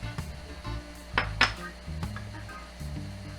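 Pineapple pieces tumble into a food processor bowl, giving a few soft thuds and clinks of fruit against plastic and metal, close up, in a quiet kitchen while a sweet dipping sauce is made with mango and coconut milk.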